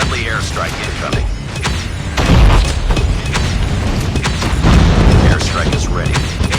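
Airstrike explosions boom and thud in a chaotic Call of Duty Mobile 10v10 Domination match on the Shipment 1944 map. Loud mechanical clatter and gunfire-like bursts surround them, and the blasts swell around the middle. Game voice lines are heard throughout.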